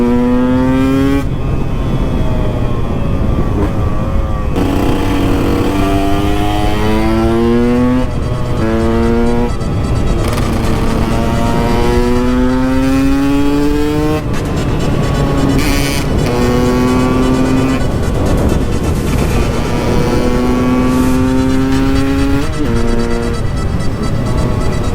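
A KTM 125 EXC two-stroke motorcycle engine revs hard and continuously on a road, loud and close, its pitch climbing repeatedly through the gears with brief drops between shifts.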